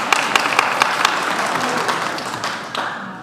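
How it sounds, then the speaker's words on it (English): An audience at a high school honors night gives a quick round of applause, a close, dense patter of many hands clapping that thins out toward the end. "All right, quick round of applause."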